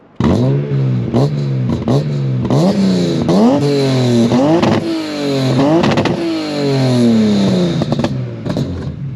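A modified BMW E36 316i engine with a Super Sprint exhaust and X-pipe revs hard several times, each pitch sweep rising and falling, with a loud, raspy exhaust note that stays close and loud throughout.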